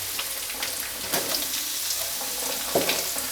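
Sliced onions sizzling in hot oil in a pan for street-style egg rice, a steady close hiss with soft crackles and an occasional stir scraping the pan.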